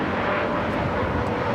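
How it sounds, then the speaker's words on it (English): A JetBlue Airbus A321 airliner takes off at LAX, producing a steady, loud broadband jet roar that holds at an even level for the whole short span with no voices. "Next takeoff is JetBlue flight 1700 heading to Fort Lauderdale, Florida, in the A321."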